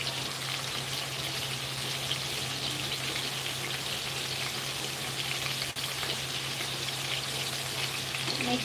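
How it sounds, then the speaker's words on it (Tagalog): Chicken pieces seasoned with pepper, salt, calamansi, garlic and onion powder fry in a pan, giving a steady, dense sizzle and crackle throughout, with a faint low hum beneath. "Medyo i-fry lang natin siya mga guys."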